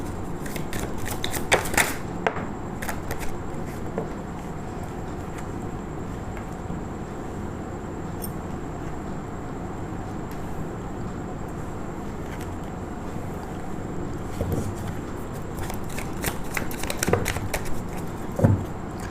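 A deck of tarot cards is shuffled close by, with soft riffling bursts at the start and end over a steady background hum, quieter handling in between.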